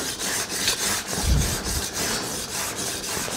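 A steel card scraper rasps back and forth across the coarse side of a two-sided diamond plate during tuning, a steady gritty scraping in rhythmic strokes, close and alone without talk.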